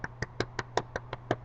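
A single person clapping hands in a steady rhythm, about nine close, crisp claps at even spacing, with a low hum underneath.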